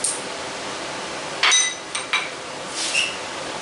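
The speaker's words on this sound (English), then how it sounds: "we're going to take and take our hammer and kind of just seat this" A hammer taps a drive part to seat it, giving three or four sharp metallic clinks spaced irregularly over a faint workshop background.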